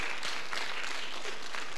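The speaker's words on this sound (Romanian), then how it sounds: "Aplauze!" Audience applause at a Romanian singing talent show after a young woman's stage performance; a brief, loud burst of dense clapping from the crowd, continuous and unbroken.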